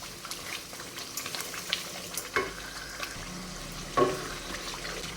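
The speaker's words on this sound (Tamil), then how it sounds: "நல்லா சுருளில் வதக்கிக்கோங்க" Tomato pickle sautéing in oil as it is stirred: a low sizzle broken by irregular spoon scrapes and taps against the pan, with one sharper clank near the end and no voices.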